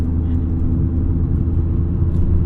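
A 1992 BMW E36 325i drives along, its engine a steady low rumble blended with road and cabin noise, even and unchanging throughout with no revving.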